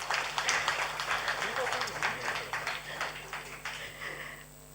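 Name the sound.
audience applause welcoming a performer on stage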